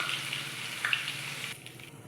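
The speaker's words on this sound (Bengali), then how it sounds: "তেলটা গরম হয়ে গেছে, আমি দিয়ে দেব আলুটাকে একটু ভেজে নেব" Potatoes fry in hot oil for chicken keema, making a bright, close hiss that holds steady and then drops off sharply near the end, with no speech.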